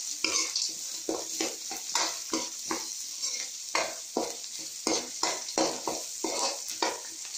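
Chopped onions sizzle and fry in a pan while a spoon scrapes and stirs them in a steady repeating rhythm, as the onion base for a raw-mango rice dish cooks. The sound is moderately quiet, with no talk.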